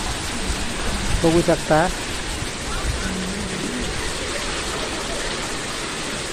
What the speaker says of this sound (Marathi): धबधबा थंडगार पाणी आहे धबधब्याचं, थंडगार.